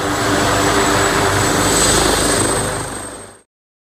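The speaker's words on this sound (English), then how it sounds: "Helicopter." A helicopter flies past with a steady, loud rotor and engine roar that holds for about three seconds before cutting off abruptly.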